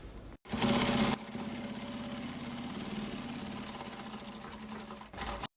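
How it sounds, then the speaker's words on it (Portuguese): A sewing machine runs a steady stitching burst while topstitching fabric for a mini pin-up box, a brief louder whir at the start and then an even mechanical hum, close up, with no speech. "Passa uma costurinha de segurança aqui, e em cima também, e aquela costurinha de pesponto prendendo todo mundo"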